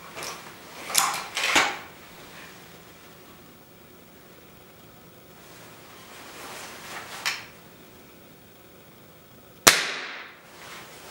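A Beeman .22 air rifle fires in a few sharp, separate cracks, two close together early, one softer later and a loud final shot, over a quiet background with no talk.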